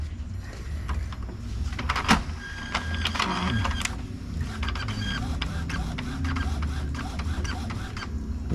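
Inkjet printer running a nozzle check print, giving whirring carriage passes, clicks and mechanical clunks in a busy sequence, moderately loud and close, with light background noise.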